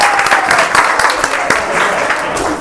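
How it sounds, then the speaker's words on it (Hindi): A group at a corporate training session applauds loudly for everyone. The clapping is vigorous and continuous, with individual sharp claps standing out, and a few voices mix in underneath. "सबके लिए एक बार जोरदार तालियां।"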